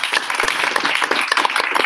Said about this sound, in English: Big round of applause for the audience